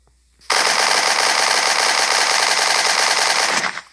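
An AK-117 gun from a Minecraft PE weapons addon fires a sustained full-auto burst lasting about three seconds, dense and loud, then stops abruptly, with no voices over it.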